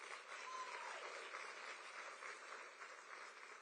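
Steady crowd applause fills a summit hall in Johannesburg, a dense wash of many hands clapping at even volume throughout, fairly distant and with no talking over it.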